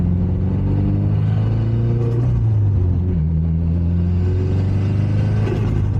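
A loud Subaru WRX engine and exhaust, with full bolt-ons and electronic wastegates, drone up close, revving and shifting pitch as it accelerates, with a deep rumbling burble throughout.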